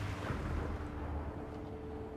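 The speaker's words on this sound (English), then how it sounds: "Firing mortars." Mortars fired from a sailing ship in Assassin's Creed IV Black Flag, a dense rumbling barrage of booms rolling continuously at steady loudness.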